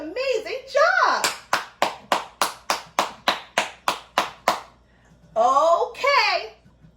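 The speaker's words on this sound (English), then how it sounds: "Can you give yourselves a hand clap?" A group of children clap their hands in a classroom-style lesson: about a dozen sharp, evenly spaced claps in a steady rhythm, with children's voices chattering before and after.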